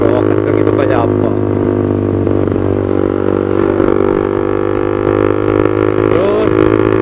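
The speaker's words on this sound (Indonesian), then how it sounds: "yang ingin tahu suara knalpot ProLiner ya, itu yang bacot kalau dibawa kenceng itu kayak apa" A motorcycle fitted with a ProLiner aftermarket exhaust drones loudly and close, a steady, rich engine note that holds throughout with slight variations in pitch.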